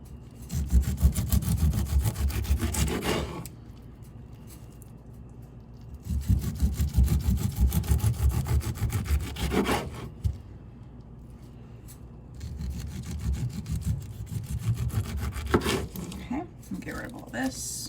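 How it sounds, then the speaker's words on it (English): Knife slicing the tough skin off a pineapple, three bouts of rough rasping, sawing cuts separated by quieter stretches where a person speaks. "Try to get as many of those eyes off as you can while you're slicing around that skin."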